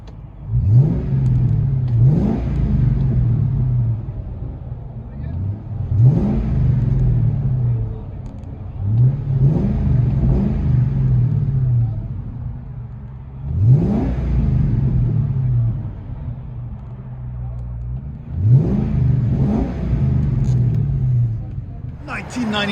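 A 1999 Ford Mustang GT with a 4.6L V8 and 14-inch Magnaflow exhaust, heard from inside the car, revving in five repeated surges over a steady deep idle rumble, each rev rising and falling back.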